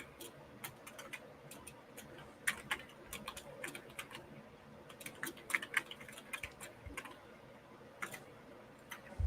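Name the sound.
typing on a computer keyboard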